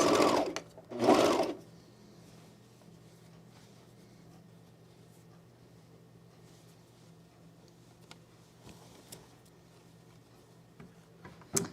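A sewing machine stitching a jumpsuit shoulder seam gives two short loud bursts at the start, then a long quiet stretch of faint ticks and hum.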